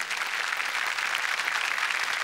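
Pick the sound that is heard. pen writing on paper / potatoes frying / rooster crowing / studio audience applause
studio audience applause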